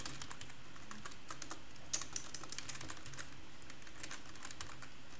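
Rapid typing on a faulty computer keyboard, with soft, closely spaced key clicks in an irregular, continuous rhythm and no talking.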